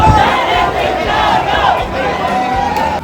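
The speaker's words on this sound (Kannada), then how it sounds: "ಸಿನಿಮಾ ಶುರು ಆಗ್ತಿದ್ದಂಗೆನೆ ಚಪ್ಪಾಳೆಗಳ ಸುರಿಮಳೆ." A packed cinema audience roars with cheers, shouts and whistles as the first-day screening of the film Devil starts, a loud, continuous crowd din with rising whistles running throughout.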